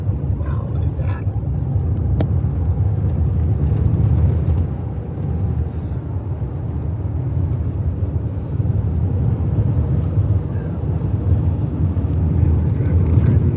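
A car drives through a volcanic desert area on the way from Quartzsite to Needles, California, with a steady low road and engine rumble that is loud and continuous throughout.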